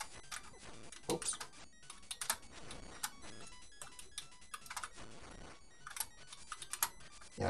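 Keyboard typing during a Game Boy Color playthrough of Link's Awakening DX, a steady flurry of close, clicky keystrokes with irregular bursts and pauses, heard alone without talk.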